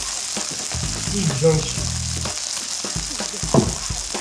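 Meat for an Irish stew sizzles steadily in a hot pan with some clinking of utensils, and a brief spoken phrase breaks in near the end.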